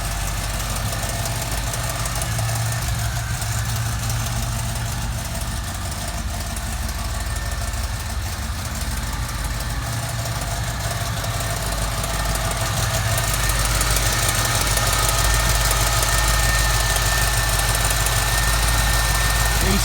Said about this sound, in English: that's the catalytic converter making that ticking